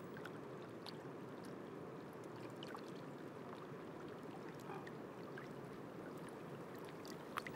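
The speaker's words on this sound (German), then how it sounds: "Eisstückchen klingen im Chor, in Wind und Wellen." Small ice fragments drift on a thawing lake in wind and waves. Faint, sparse tinkling clicks sit over a soft, continuous wash of lapping water, all heard quietly from a distance.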